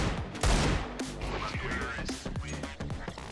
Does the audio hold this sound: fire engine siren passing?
no